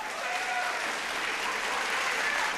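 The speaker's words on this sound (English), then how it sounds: "Round of applause, please, for Dream Inn Luxury Service Apartments." A studio audience at a televised vocal competition show gives a round of sustained applause, dense, steady clapping from a crowd at moderate distance, with a faint voice underneath.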